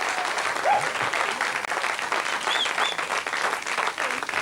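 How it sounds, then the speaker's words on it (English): A studio audience at a television talk show claps steadily and loudly throughout, a dense continuous applause with a couple of faint whistles cutting through. "Ladies and gentlemen, give the guys a round of applause."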